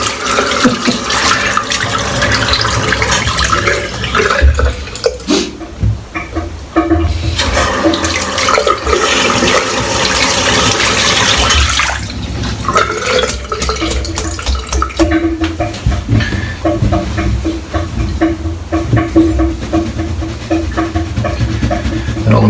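Shaving soap and brush rinsed under a running tap, a loud, close, steady rush of water splashing into a sink with shifting gurgles and brief changes in flow.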